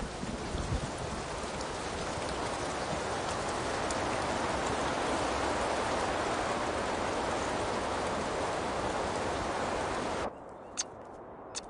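Heavy rain pours steadily as a dense, loud hiss for about ten seconds, then cuts off abruptly, leaving near silence with a few faint drips.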